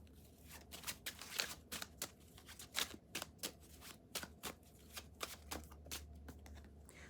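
A deck of tarot cards is shuffled in quick, irregular riffling bursts of crisp, close, fairly quiet flicks and snaps, with no talking.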